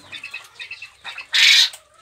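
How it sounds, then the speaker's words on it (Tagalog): Quails in a cage give soft chirps and clucks, followed by a brief loud burst of wing flapping that lasts about a third of a second, close by. "Nilagay na natin yung ating mga quail bird."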